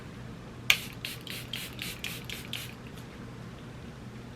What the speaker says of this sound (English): I'm gonna spray my face with this setting spray.